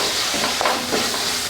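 Coconut fish curry mixture being stirred in a pan, a soft sizzle running throughout with a couple of brief scraping strokes of the spoon near the middle.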